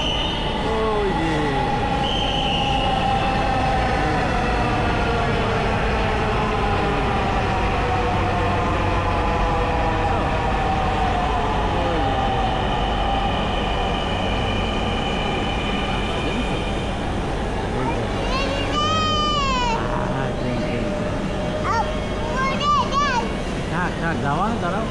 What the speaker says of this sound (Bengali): ওই যে ট্রেন আসতেছে, দেখেছো?